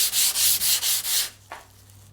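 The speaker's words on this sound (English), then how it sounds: "you'll see me go up through the various papers and I'll just keep sanding" Rhythmic scraping of sandpaper rubbing over a Damascus steel knife blade, five or six quick back-and-forth strokes up close, then a pause and one faint scrape.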